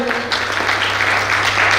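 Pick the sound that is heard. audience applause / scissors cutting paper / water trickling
audience applause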